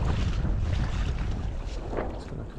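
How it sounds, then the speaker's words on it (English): An inflatable windSUP board glides across water in a light breeze of about 6 to 8 knots, with steady wind rush and water swishing against the hull, close and continuous, with no voices. "Board's tracking along really nicely now in probably only about 6 to 8 knots of breeze."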